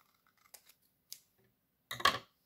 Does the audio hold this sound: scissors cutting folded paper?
yes